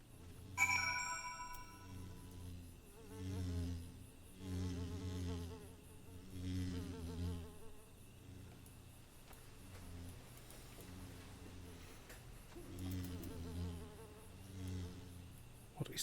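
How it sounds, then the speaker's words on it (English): Wasps buzzing in the video game Final Fantasy XIV, a pulsing low droning hum that swells and fades in repeated waves, faint with a bright chime near the start. "Oh, those are the wasps"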